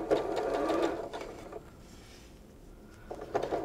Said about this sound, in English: So you're just going to sew directly from the one corner on the top to the corner on the bottom.